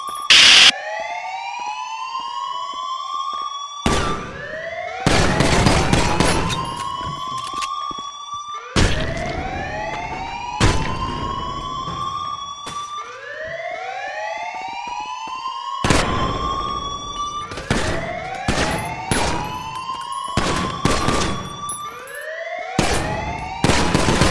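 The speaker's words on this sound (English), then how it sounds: "The alarm locked the whole place down, so there'll be a few guards." A lockdown alarm in a video game sounds over and over, each rising, upward-sweeping electronic wail repeating in a steady cycle. Loud, sharp bursts like gunshots or impacts break in now and then, and no one speaks.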